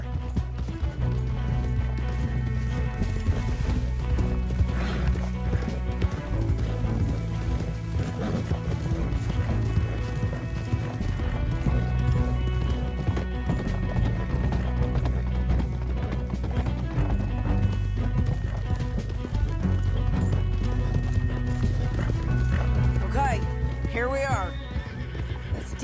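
Horses neigh and whinny while hooves clip-clop steadily in Red Dead Redemption 2, the hoofbeats loud and continuous throughout, with a dense game score underneath and a shrill whinny rising near the end over voices talking.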